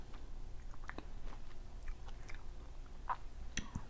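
Someone eats durian close to the microphone, soft wet chewing and occasional crisp bites sounding in irregular bursts over quiet background.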